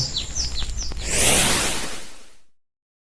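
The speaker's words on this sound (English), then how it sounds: "Sometimes I hear the same birds singing from past weeks." A few quick chirps ring out near the start, then a rising rushing whoosh swells and fades to silence.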